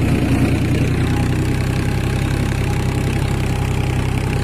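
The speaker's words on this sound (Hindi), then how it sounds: "आवाज़ देखो ट्रैक्टर की" A loud, steady Farmtrac 45 tractor engine running close by, pulling a Shaktiman rotavator, a constant low rumble with a rapid knocking pulse and no pauses.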